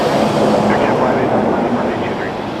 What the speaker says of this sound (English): Another 737-800. 2 in a row. This one is a WestJet livery though.